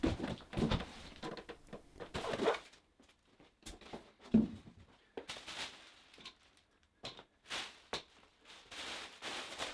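Loose polystyrene packing pieces pour and tumble out of a smart bike trainer's cardboard box in a run of uneven rustling, pattering bursts with short pauses, close by and moderately loud, with no talking.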